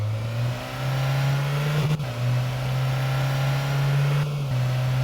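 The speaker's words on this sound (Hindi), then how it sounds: "अब इस गाड़ी को भगाते हैं स्पीड में।" In the video game Car Dealership, a car engine drones at a steady mid pitch while it accelerates, with a short dip and a brief stutter partway through, loud and close, no voices.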